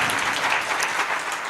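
Steady audience applause at a church mission gathering in Ludhiana, a dense, even patter of many hands clapping continuously at moderate loudness, with no voices over it.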